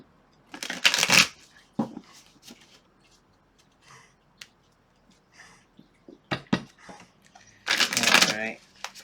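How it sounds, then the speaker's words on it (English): Tarot cards being shuffled by hand: two loud bursts of riffling at the start and the end, with a few soft taps and rustles in between, close up and with no talking. "I'm going to give this a shuffle"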